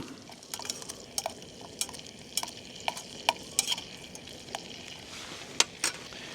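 Butter and olive oil sizzle in a camping pan in a woodland, a steady frying hiss broken by sharp metallic scrapes and clinks of stirring.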